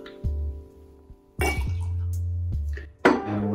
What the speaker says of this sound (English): That is a 2 ounce pour of tequila.